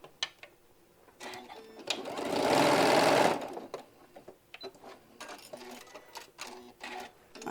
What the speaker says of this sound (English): Now we're going to go ahead and stitch this down to secure it, just to hold it in place.